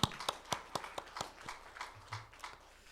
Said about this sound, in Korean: 우리 하나님께 영광의 박수를 돌리겠습니다